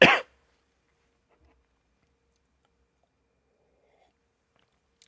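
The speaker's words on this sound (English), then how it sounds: "I will really try not to cough into the mic." A single short cough into a microphone right at the start, close and fairly loud, followed by near silence.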